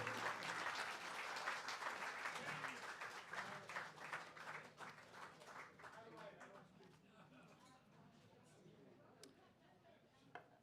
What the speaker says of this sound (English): A round of applause for Thomas Paine.